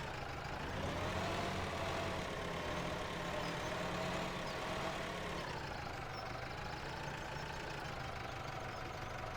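A John Deere mower engine in Farming Simulator 17 runs steadily throughout, a continuous mid-pitched motor drone that holds level and close with no talk over it.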